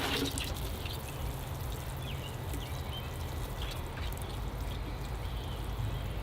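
Water pours from a watering can onto the pine bark soil of a potted Northern White Pine bonsai, a steady close splashing trickle running throughout with a few drips, no voices.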